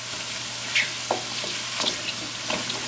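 Mushrooms brown in a pan with a steady close sizzle, dotted with small pops and light stirring clicks, heard without talk.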